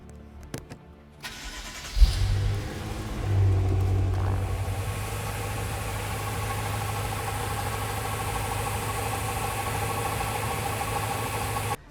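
A BMW M6 V8 engine cranks and starts, then settles into a steady close idle with an abnormal uneven knocking undertone running through the rumble.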